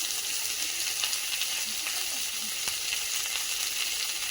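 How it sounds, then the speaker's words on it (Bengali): Whole cumin seeds and dried red chillies fry together in oil for a spinach-and-prawn spice paste, making a steady, close, hissing sizzle with light crackles and no talking. "একসাথে ভালো করে ভেজে নেব"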